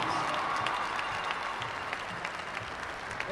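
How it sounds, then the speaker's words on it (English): A crowd gives sustained, steady applause for two ice hockey teams at the MIAA Division I boys hockey final, Xaverian Hawks against Pope Francis Cardinals, in an arena, with some voices mixed into the clapping. "How about a great round of applause for two wonderful ice hockey teams."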